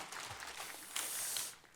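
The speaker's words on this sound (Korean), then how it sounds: "박수로 환영하도록 하겠습니다" Brief applause greets a newcomer during a church service, a soft patter of clapping from a congregation that swells slightly before fading.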